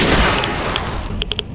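Explosive shotgun blast in Fallout 4 VR, a loud booming burst up front followed by a few sharp, quick pops near the end.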